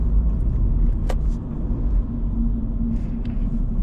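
A 2025 Toyota GR86 driving, its engine a low steady rumble heard from inside the cabin, with a couple of brief clicks and no talk.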